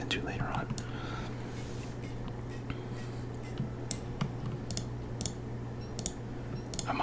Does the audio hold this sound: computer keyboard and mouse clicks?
yes